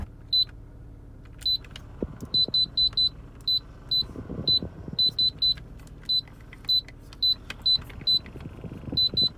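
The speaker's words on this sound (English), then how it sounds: "every time you push anything in the climate controls, they beep" Climate control buttons in a Mitsubishi 3000GT VR-4 beep with short, high electronic tones, each a single or double chirp, repeated about twenty times at irregular intervals over quiet cabin hum.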